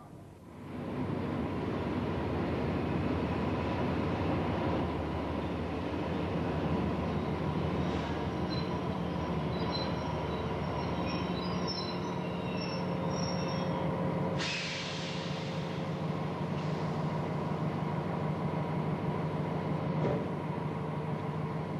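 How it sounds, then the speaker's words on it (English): An XPT passenger train pulls into Central Station in Sydney, its steady rumbling drone close and continuous, with metallic wheel squeals and brake hiss rising midway before the low roll settles again. "the XPT arrives at Central Station, Sydney"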